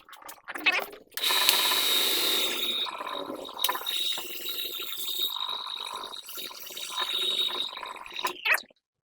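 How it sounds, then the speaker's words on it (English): An electric sander runs on armor pieces, a steady buzzing whine that starts after a few brief knocks and holds for several seconds at close range before cutting off. "I'll go ahead and jump on the sander here"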